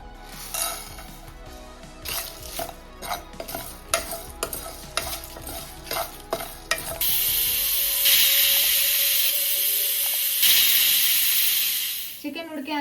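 Spices and nuts stirred in a pan, with repeated scraping clinks, then a loud, steady sizzle and hiss as they roast for chicken haleem.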